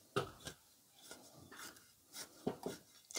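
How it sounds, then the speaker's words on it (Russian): Small garden trowel loosening and stirring soil mixed with ash, several short dry scrapes and gritty rasps at uneven intervals, close and fairly quiet. "И начинаю рыхлить совочком. Вот так, просто перемешивать с золой землю."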